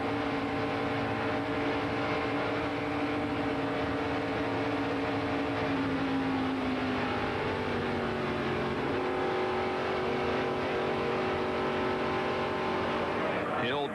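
In-car sound from a stock car racing in the 1996 ARCA event at Daytona: a loud, continuous engine roar with a shifting pitch and a brief rising sweep near the end.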